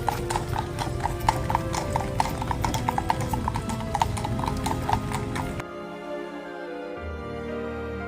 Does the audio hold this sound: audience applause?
no